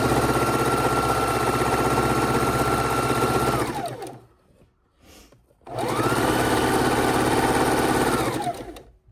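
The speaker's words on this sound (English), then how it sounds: "we're going to start sewing our row" A sewing machine runs steadily at high speed, stitching quilt blocks, pauses for about a second and a half, then stitches again in a long continuous whir, close by.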